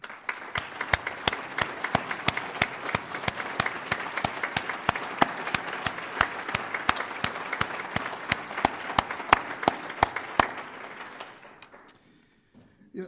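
An audience at a chamber of commerce awards dinner applauds standing award recipients, with sustained dense clapping and steady sharp hand claps for about eleven seconds before fading out.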